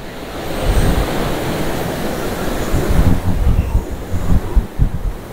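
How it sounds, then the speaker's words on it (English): Ocean tide coming in, waves washing onto the shore in a continuous loud roar with rolling surges, heavy low wind rumble on the microphone. "Take this tide coming in."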